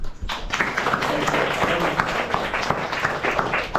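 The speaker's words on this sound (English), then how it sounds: "give a round of applause" A small group claps close by for a few seconds, a busy patter of uneven hand claps with no talking over it.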